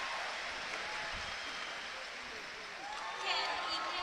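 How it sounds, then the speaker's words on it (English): A crowd murmurs with scattered applause in a large arena at a men's gymnastics team final, a soft, distant, steady buzz with a small swell of clapping near the end, under a faint commentator voice. "Definite buzz in the crowd for the first competitor from the host nation."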